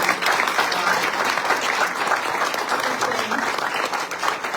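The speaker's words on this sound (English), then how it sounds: "give all our artists a round of applause for their generosity" Close, loud round of applause from an audience at an art prize gallery floor talk, honouring the artists with a thick, continuous patter of many hands that holds throughout.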